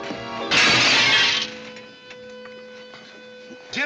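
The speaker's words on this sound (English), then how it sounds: "You busted Lily's looking glass." A mirror shatters in an Old West setting with one loud burst of breaking glass, followed by a fading ring and tinkle of falling shards and a quieter hum.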